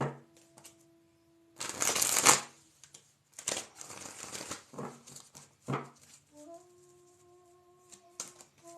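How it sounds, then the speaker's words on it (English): Tarot goddess cards being shuffled in bursts, with riffling and flicking of the deck near and fairly loud, separated by short pauses, while a low steady tone plays in the background. "We're also going to begin shuffling the goddess cards here."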